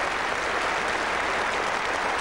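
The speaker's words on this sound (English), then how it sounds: "This crowd rise on their feet to applaud" Cricket crowd at a 1977 England versus Australia Test match at Trent Bridge applauding a century, a dense, steady roar of clapping from a large stadium audience, loud and continuous throughout.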